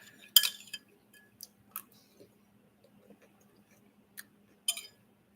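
A spoon clinks against a cereal bowl during eating, several sharp, bright metallic taps spaced irregularly, close and clear over a quiet background.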